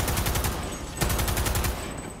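Rapid, loud gunfire from a Cyberpunk 2077 firefight, a dense string of close shots with a fresh burst about a second in, continuing without pause.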